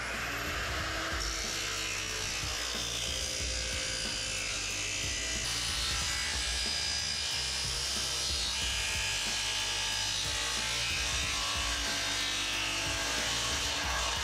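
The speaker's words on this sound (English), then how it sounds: "I find it easy to use my sliding miter compound saw for cutting alloy." A sliding miter compound saw cuts through alloy, a steady, loud, bright whirring grind that holds for the whole stretch with no pauses, set in a workshop during a Holden ute build.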